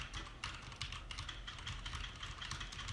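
A PC keyboard is typed on rapidly during a Fortnite match, giving a steady run of close, crisp key clicks over a low background hum, with no talking.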